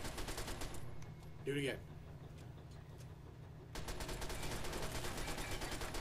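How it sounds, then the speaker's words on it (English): Gunfire in a hallway in Fallout 3, sustained rapid shots that build into a dense, continuous volley in the second half, with a brief voice heard earlier. "walk into that hallway and shoot your gun"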